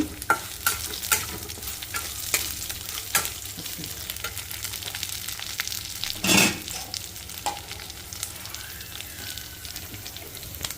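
Curry leaves crackle and sizzle in hot ghee tempering, with scattered sharp pops and one loud spitting burst midway, no talking.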